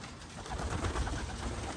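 Racing pigeons coo softly in a loft after a rest from road training, a continuous low murmur of several birds close by, with no voices.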